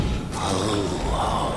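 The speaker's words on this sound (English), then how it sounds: "Not over your gasping for air." A character in the video game Bendy and the Dark Revival gasping for air, a short breathy gasp over a dense, noisy in-game background.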